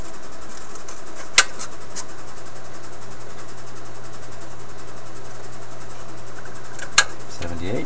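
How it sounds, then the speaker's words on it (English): An Electrohome 601 record player's turntable motor runs after being switched to manual, a faint steady low hum broken by two sharp clicks. "We got the motor turning."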